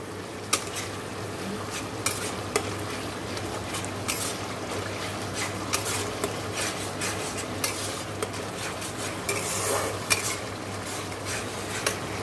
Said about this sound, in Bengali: এদিকে দেখো মশলা কষানো হচ্ছে, মাংসের মশলা কষানো হচ্ছে।